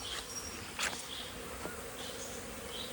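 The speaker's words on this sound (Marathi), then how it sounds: "आवाज पण येतो, बज येतोय त्यांचा तो" Sateri honeybees hum faintly inside a warm wooden hive box, a soft continuous buzz with a few brief louder passes, low in level and without speech.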